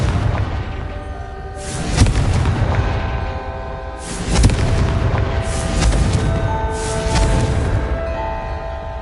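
In a Harry Potter video game, a Confringo spell blast produces repeated deep booming explosions, several strong bursts roughly two seconds apart over a rumbling, continuous background.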